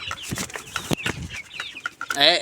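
A 50-day-old cock chicken on a poultry farm clucks and squawks in short, irregular bursts while being weighed, close up, with a sharp flurry of louder calls or fluttering at the end.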